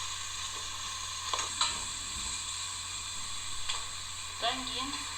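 Eggplant frying with garlic and bell pepper for a vegetable ragout, soft continuous sizzling broken by occasional scrapes of a utensil stirring the pan, with a faint voice briefly near the end.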